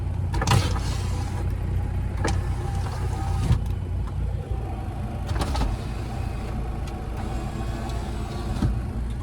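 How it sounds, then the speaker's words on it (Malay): A steady power window motor whine runs throughout, with a few sharp clicks and thumps as the mechanism starts and stops, heard from inside a Mitsubishi Pajero wide body. "Power window."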